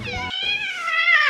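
Several female cats meowing indoors, a continuous drawn-out, wavering meow with a higher cry rising at the end, close and fairly loud with no talk.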